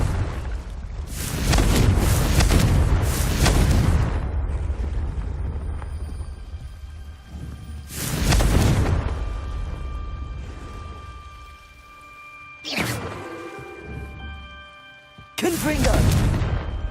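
Repeated Confringo fire-spell blasts in the Hogwarts Legacy video game: several loud, broad explosive bursts spread across the stretch, with rumbling tails and game music and effects running underneath.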